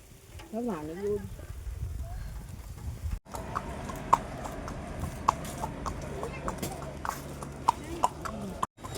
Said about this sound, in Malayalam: നമ്മളിപ്പോ കുതിരപ്പുറത്താണ്